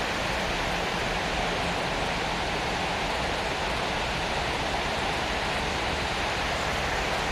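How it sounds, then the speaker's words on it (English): A woodland waterfall pours in a steady, dense roar that fills every moment without change, close and loud, with no voices over it. "There's the waterfall."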